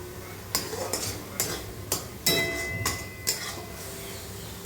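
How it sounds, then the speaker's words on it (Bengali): Spices frying in mustard oil give a soft continuous sizzle while a metal spoon scrapes and clinks against the pan in a slow regular rhythm, about eight strokes, close up. "তো নাও এটাকে আমি ভাজা ভাজা করে তেল ছাড়া অবধি কষে নেব"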